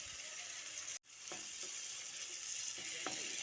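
Spice paste with tomato and a splash of water cooking in a pan, a steady close sizzle briefly cut off for a moment, then resuming with a few soft stirring taps.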